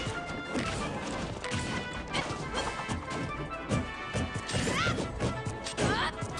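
Heavy smash impacts from Super Smash Bros. Ultimate competitive play land in a dense, busy stream of crashing hits and game effects, loud and continuous.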